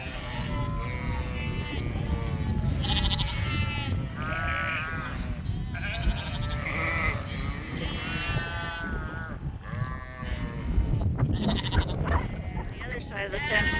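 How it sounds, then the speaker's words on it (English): Weaned ewes in a paddock bleat repeatedly, several calls overlapping at moderate distance, under a person talking and steady background noise. "Side of the fence there we have the ewes that were weaned off."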